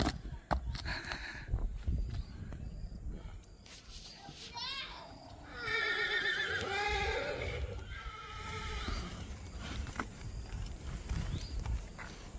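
An 18-year-old Kathiyawadi horse lets out a loud, drawn-out whinny midway, with hooves clopping around it and people talking nearby.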